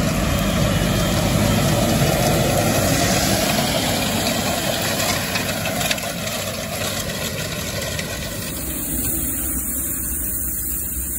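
A tractor engine idles steadily nearby, a constant low rumbling drone that holds without change for the whole stretch.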